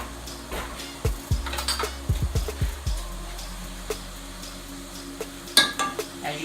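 A silver fork moves lightly through meat in a pan of chili, giving a series of sharp metallic clinks and scrapes in quick clusters over a soft background sizzle, with no voices.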